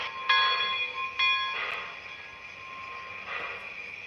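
Locomotive 412 running on a model train layout, with two sharp horn blasts in quick succession followed by softer, fading tones over a quiet rumble.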